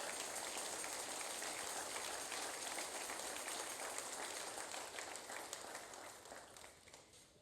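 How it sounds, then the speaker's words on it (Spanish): A church congregation breaks into sustained applause, a dense wash of many hands clapping heard from a distance and fairly faint, holding steady before tapering off at the end with no voices over it. "Suelte fuerte ese aplauso."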